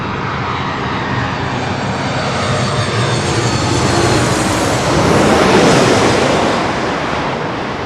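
United Airlines airliner engines near LAX, a loud continuous jet roar that swells to a peak past the midpoint and then eases slightly, close and steady with no talk.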